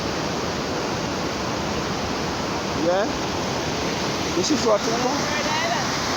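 Floodwater left after a hurricane rushes in a broad, steady roar close to the microphone, with someone speaking briefly over it.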